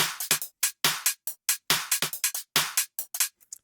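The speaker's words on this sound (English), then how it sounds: "And then, yeah, with the clap." Sharp clap hits from a drum sample in a swung boxy bassline beat, repeating in an uneven, shuffling rhythm with short crisp bursts and gaps, loud and dry with no talk.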